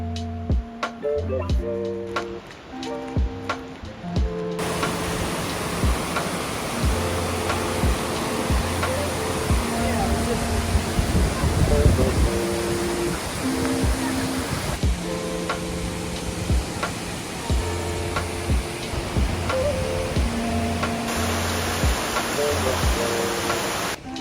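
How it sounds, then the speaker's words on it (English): A steady broadband rush of falling water fills the scene, with faint ticking and musical tones layered over it. "the familiar sound of the waterfalls up in the distance here."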